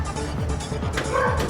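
A rescued street dog, matted and with mange, lets out several short yips and whimpering barks, close and fairly loud, over a steady background hum.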